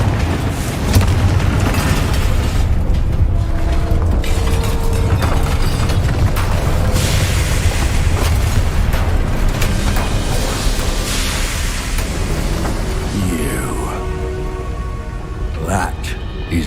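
A Confringo fire spell bursts in Hogwarts Legacy amid a loud, sustained roar of explosive rumble and crackle, heavy battle noise filling the whole stretch with a voice speaking over it.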